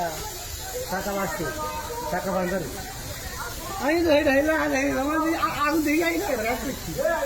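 Gas escapes from a leaking CNG-powered vehicle with a steady, continuous hiss that runs throughout beneath a person talking nearby.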